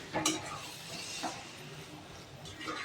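Spoon stirring and mixing cooked dal khichdi in a pot, soft scraping and mushy swishes with a couple of brief clinks against the pot, close and fairly quiet.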